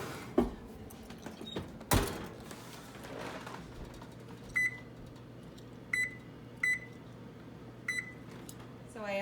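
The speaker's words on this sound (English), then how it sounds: "we're going to stick them in the oven for cooking" Cinnamon rolls going into a kitchen oven: a couple of sharp clunks from the door and tray, then a spaced series of short electronic beeps as the oven is set, all fairly close and quiet.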